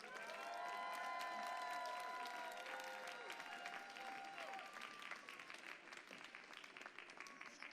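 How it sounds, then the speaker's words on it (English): Audience applause fills a darkened arena at a middle school VEX robotics state championship, a long steady round of clapping and cheering that slowly fades, with electronic tones sounding over it. "Round of applause again."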